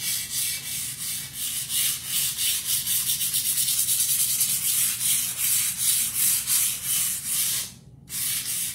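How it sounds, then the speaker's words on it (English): Painted glass rubbed with a sanding sheet to blend colors, a close, loud rhythmic scratching in quick back-and-forth strokes that pauses briefly near the end before resuming. "Now you can also blend some color with the, with a sanding sheet."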